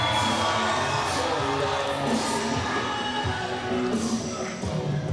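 A wrestling crowd in Malacca roars and cheers continuously, a dense wall of whoops and yells from a large audience at a live event, loud and sustained throughout.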